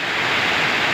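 A broad, steady roar of falling water from a waterfall near a beach fills the moment, loud and constant with no other sounds.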